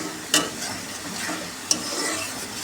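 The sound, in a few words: sautéing ground spices, turmeric, salt, chili and coriander, in a pan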